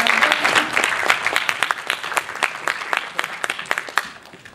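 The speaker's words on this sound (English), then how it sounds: "just a round of claps if you really want to applaud everyone" A small audience at a student hackathon claps together, the sharp individual claps dense at first, then thinning into scattered, separate claps as the applause dies away.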